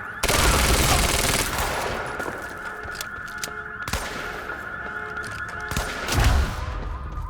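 Sustained automatic suppressing fire in the shooter game Quantum Break, a loud rattling burst up front, then scattered sharp shots and another heavy burst near the end, with occasional shouted voices.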